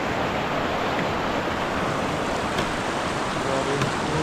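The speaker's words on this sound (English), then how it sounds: "Water flowing into Glenn's Lake." Steady rushing water flowing into Glenn's Lake, a continuous broad wash of sound with no pauses, fairly loud and close.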